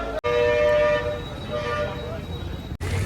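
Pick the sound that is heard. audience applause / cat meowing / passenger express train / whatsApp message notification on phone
passenger express train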